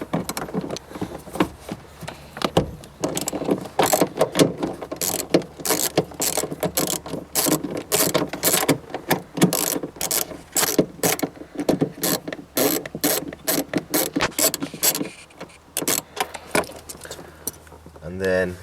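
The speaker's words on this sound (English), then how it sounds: "So I'm going to remove this bolt with an 8mm." A ratchet with an 8mm socket works a bolt loose on a Civic Type R, giving a long run of rapid, close clicking in steady bursts, with a short pause near the end.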